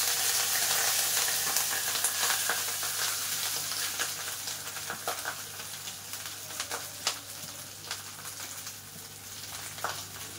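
Cooked, cooled rice frying in a pan with mustard seeds, curry leaves and dried red chillies gives a steady close sizzle with occasional stirring scrapes and crackles, loud at first and settling slightly.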